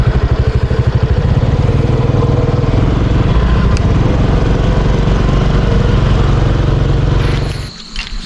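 A motorcycle engine runs close and loud in a steady, rough drone at night near a cemetery, holding constant before dropping away in the final second.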